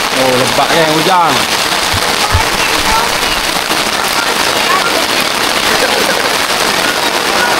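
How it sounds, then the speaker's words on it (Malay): Heavy monsoon-season rain pours down on a campsite in a loud, dense, unbroken hiss of drops on surfaces. Someone speaks briefly at the start, followed by a few thuds. "lebat kan hujan"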